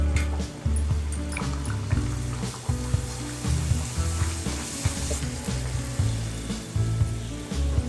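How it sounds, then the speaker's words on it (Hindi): Puris fry in hot oil for a festival prasad, a close and continuous bubbling sizzle with irregular pops and spatters and occasional clinks of a utensil, with no talk. "हल्का गोल्डन कलर आने तक पूड़ियों को फ्राई करना है।"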